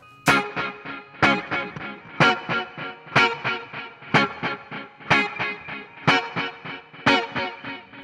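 Electric guitar on a dub patch through an Axe-Fx preset plays short, muted offbeat chord stabs in a steady reggae rhythm, roughly one per second, each chop ringing briefly with a little echo.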